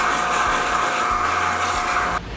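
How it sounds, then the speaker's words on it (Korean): A vacuum cleaner runs with a steady, loud whine while cleaning a Mazzer Super Jolly coffee grinder with its upper burr removed. The motor drones evenly and close by, then dips abruptly near the end. "진공 청소기로"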